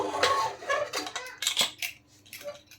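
Metal lid of a pressure cooker being opened after cooking chicken curry on a gas stove, heard as a close series of sharp metallic clinks and clatters, uneven in rhythm and fading toward the end, with no talking.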